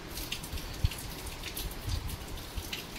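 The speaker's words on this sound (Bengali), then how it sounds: "বৃষ্টি" Rain falls softly and steadily, with scattered drops pattering close by on a surface, and no voices.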